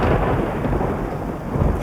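A thunderstorm directly overhead, with a dense, loud rumble of thunder rolling continuously over steady rain for a couple of seconds, with no voices.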